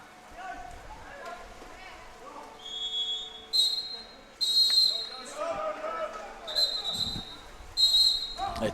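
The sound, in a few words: referee's whistle at a water polo match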